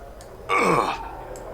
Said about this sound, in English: Perpetual hiccups.